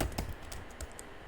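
Quick, light keystrokes click on a computer keyboard while a name is typed into an Excel spreadsheet, a short close burst of soft taps with no voices.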